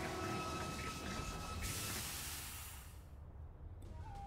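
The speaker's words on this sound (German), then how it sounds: "warum zum Geier hat dieses Schloss einen eigenen Zug?" A train rolls through a castle in the video game Bloodstained, a continuous rumbling rail noise that gradually fades and thins toward the end, with no talk.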